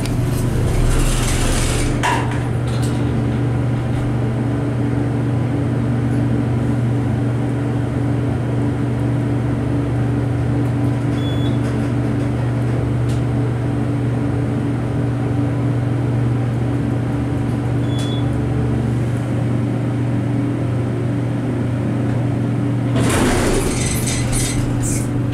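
A generic Innovation-modernized hydraulic elevator at Krug Hall, George Mason University, Fairfax, Virginia, runs with a steady low motor hum. Two faint chime blips sound partway through, and a door clatters near the start and again near the end.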